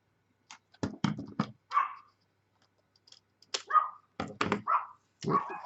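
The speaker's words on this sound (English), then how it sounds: "Oh, dogs are barking. The neighbours must be out." Neighbours' dogs barking in short sharp bursts, several barks in quick clusters separated by brief pauses, fairly close and clear with no talk over them.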